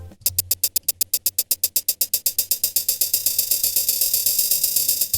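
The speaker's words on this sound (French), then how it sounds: "Le mode B est beaucoup plus glitché. On entend quelque chose de beaucoup moins transparent en fait, quelque chose de plus agressif," A sample played back glitchily through Ableton Live 11's Simpler in mode B, a rapid string of sharp, evenly spaced stuttering hits that speed up and blur into a dense, harsh buzz, loud and alone.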